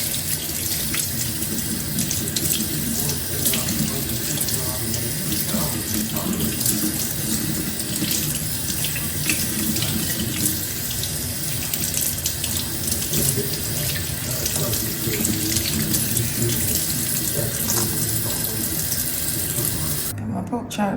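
Tap water runs steadily from a kitchen faucet over raw pork chops being rinsed in a sink, a constant splashing hiss that holds for the whole stretch with little change.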